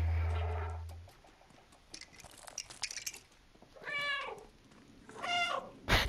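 Cat meows in the video game Stray, several distinct meows with rising and falling pitch, close and clear, separated by quieter gaps, with no talk over them.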